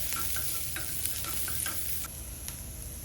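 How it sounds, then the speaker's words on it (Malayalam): Ginger, green chillies and curry leaves being sautéed in a pan for vegetable rava upma, a steady close sizzle with a few light stirring scrapes throughout, no voices. "ഇത് നന്നായിട്ട് വഴറ്റുക."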